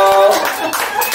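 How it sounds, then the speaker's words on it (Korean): Brief burst of hand clapping from guests at a Korean first-birthday doljabi ceremony, close and lively, with a voice speaking over it. "박수 부탁드릴게요"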